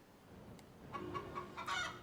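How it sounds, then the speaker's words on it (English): Chickens in the horse-riding video game Star Stable give a few soft, quick clucks in a short burst over a quiet game background. "Oh yes, the chickens are over here."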